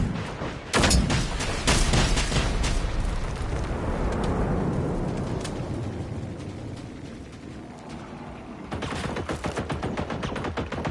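Sustained bursts of gunfire aimed at robots in the video game Generation Zero, loud and dense with rapid overlapping shots, easing off midway and then picking up again at the end.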